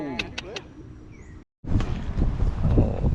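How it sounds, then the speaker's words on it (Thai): Strong wind blowing at a fishing pond: after a brief quieter opening with a voice, the sound cuts out, then heavy gusty buffeting roars close against the microphone and stays loud to the end. "ลมแรงมากครับ"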